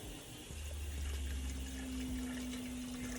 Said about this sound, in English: and add water